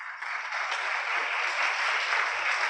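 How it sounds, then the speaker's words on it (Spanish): An audience claps steadily for a conference speaker on Latin American airline mergers, a dense, even wash of applause filling the room for a few seconds without voices. "Un fuerte aplauso para él, por favor."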